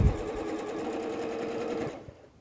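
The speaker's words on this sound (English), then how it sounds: "now I'm ready to sew my outside shape A" A sewing machine stitches quilt fabric pieces in a steady, rapid mechanical whir for about two seconds, close and clear, then stops abruptly.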